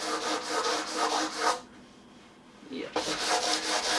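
Hand sanding wood at an off-grid wilderness cabin, rhythmic back-and-forth rasping strokes close to the microphone, pausing briefly midway before resuming, with a short spoken word in the gap.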